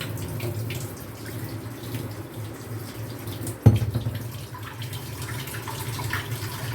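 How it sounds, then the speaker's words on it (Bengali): Water is added to a freshly washed bowl in a kitchen. A brief splash and trickle stand out over a quiet background hiss. "এবার এই বাটিটা ধুয়ে সামান্য একটু জল, খুব সামান্য দেব।"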